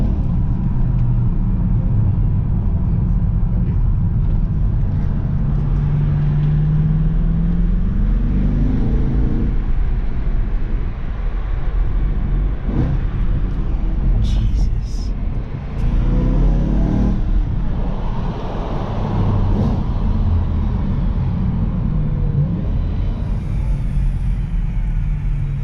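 A BMW E92 M3 with a burble exhaust tune while driving, heard from inside the car as a loud, continuous low engine rumble with rising and falling revs and scattered pops and crackles.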